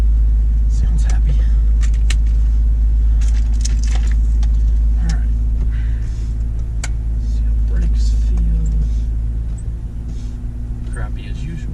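A Toyota Land Cruiser engine running while driving gives a steady, heavy low rumble inside the cabin, with small clicks and someone speaking briefly over it.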